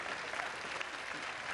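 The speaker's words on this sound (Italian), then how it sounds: "un applauso anche per Gabriele" Audience applauding a dancer after a ballet pas de deux, a dense steady clatter of many hands throughout.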